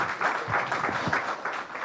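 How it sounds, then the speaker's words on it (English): An audience at a building renaming ceremony honoring Rick and Julie Alvis breaks into steady applause, a dense wash of clapping that holds at an even level for the whole stretch. "Now you can clap."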